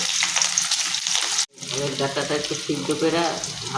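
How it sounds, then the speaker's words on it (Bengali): Chopped onions fry in a pan with a steady sizzle and stirring, briefly cut off before the frying resumes, while a voice talks over the cooking. "একটু পেঁয়াজটাকে ভালো করে ভেজে নিতে হবে"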